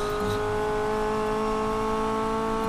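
In the racing game Need for Speed Payback, a Honda Civic's engine drones with a steady, tonal hum and holds its revs at a constant pitch, with no voices over it.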